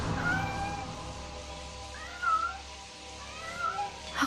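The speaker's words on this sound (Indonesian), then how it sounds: "hanya ada seekor kucing kecil yang sedang berada di bawah wastafel" A small kitten meows several times under a bathroom sink where a tap is running, with short rising and falling cries spaced out over a steady low background hum.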